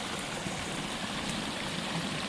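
Water flowing steadily through a culvert beneath a path, a constant close rushing wash with no pauses and no voices.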